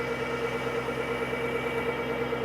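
A tractor engine drives a PTO generator under load, feeding a house with a dryer cycling on and off, producing a steady, close, continuous droning hum with a fixed tonal pitch and no breaks.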